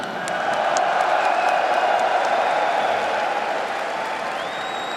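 A large esports arena crowd at a Counter-Strike major in Antwerp roars with steady applause, cheers and whoops, loud and sustained throughout with no break.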